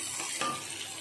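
Onion pieces browning in a pan give a short, close sizzle with a quick scraping stir partway through, and no voice over it.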